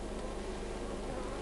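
Bees buzz at a honeybee hive during a nectar flow, a dense, steady close drone from many insects with no talk.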